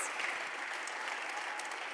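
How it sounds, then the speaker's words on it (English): Audience applause fills a performance evening at the historic Lincoln Theater during an AAPI Heritage Month celebration, steady dense clapping throughout at moderate loudness with no voices on top. "please give another round of applause for Tepua Hiohio and all our wonderful performers this"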